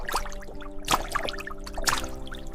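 Water poured over breadfruit, a splashing pour with trickling and dripping and a few louder gushes over a steady low hum, close by with no talk.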